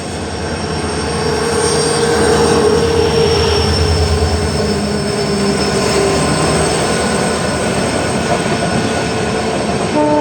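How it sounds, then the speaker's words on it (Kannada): WDP4D diesel locomotive hauling LHB coaches as the Vijapur–Mangalore Central Express, a steady loud rumble of wheels and engine with faint squeal, continuous throughout with no voices. "17377 ವಿಜಾಪುರ ಮಂಗಳೂರು ಸೆಂಟ್ರಲ್ ಎಕ್ಸ್ಪ್ರೆಸ್. ಕರ್ನಾಟಕದ ಲಾಂಗೆಸ್ಟ್ ಟ್ರೈನ್"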